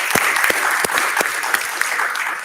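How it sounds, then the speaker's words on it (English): An audience at a policy dialogue conference gives a round of applause, dense steady clapping with a few sharper claps standing out, fading slightly at the end. "A round of applause,"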